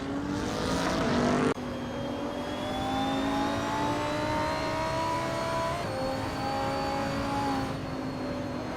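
Video game race cars drone loudly and continuously, a high engine whine rising slowly in pitch as they accelerate, with an abrupt shift in tone partway through and no voices.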